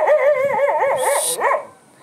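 Dog barking and yipping on a Bali roadside near the north coast, a run of rapid, high-pitched, wavering barks close by with a brief hiss of wind or traffic partway through, fading at the end.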